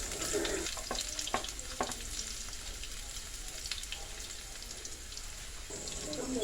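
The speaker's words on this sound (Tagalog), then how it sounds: "maglalagay ako ng mantika para magisa ng bawang sibuyas" Garlic and onion sautéing in cooking oil for a pork and bitter melon dish give a steady close sizzle with a few sharp stirring knocks early on, without speech.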